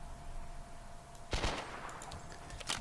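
Gunfire from a third-person shooter game under test with adjusted recoil settings: a faint, quiet background, then two short, sharp bursts of rapid shots about a second apart.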